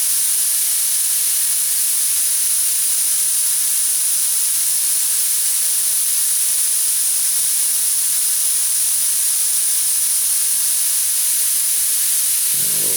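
Airbrush spraying paint onto a 1977 Camaro during a paint defect test, a steady, loud hiss of compressed air that runs unbroken for the whole stretch, with a slight change near the end.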